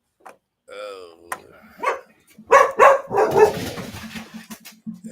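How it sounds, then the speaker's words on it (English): A dog barks a few times in the background of a room while several people talk loudly over it, the barks partly buried in the chatter. "Is that a dog man?"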